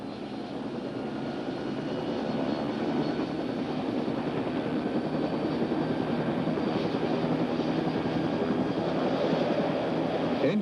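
An OH-58A Kiowa helicopter's turbine engine runs as the throttle is slowly opened toward full, a loud, steady roar and whine that swells slightly after the first couple of seconds and then holds, no talk over it.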